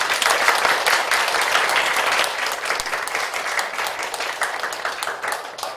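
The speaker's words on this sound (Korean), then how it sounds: "우리 박수 한번 하시죠" A church congregation at a Sunday service claps together in steady, sustained applause that fills the room for several seconds, fading slightly toward the end.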